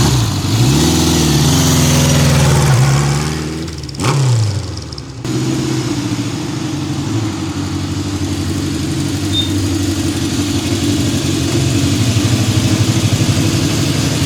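A 1969 Honda CB750 K0 motorcycle engine drones steadily while riding, its pitch rising and falling through gear changes, with a brief dip before settling into a constant cruise.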